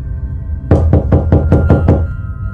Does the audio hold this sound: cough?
no